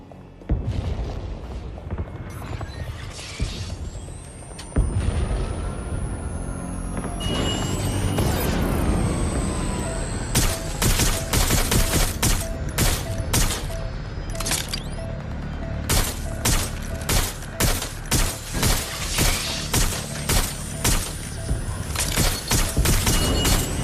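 Gunfire in Watch Dogs Legion, with a long run of sharp, evenly spaced shots and a few booms after a rumbling build-up, loud and close.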